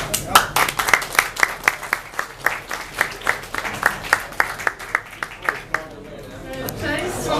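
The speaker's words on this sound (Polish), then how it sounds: "Brawa!" Guests clap at the opening of a new brewery, a few hands beating in a steady, fairly close rhythm that thins out near the end, with faint chatter in the room.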